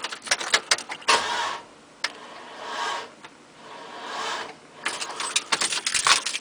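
A Crossfire Hummer with a battery reading about 10 volts struggles to start, with bursts of clicking and rattling broken by two longer grinding cranking attempts that fail to catch, close and fairly loud with no talking.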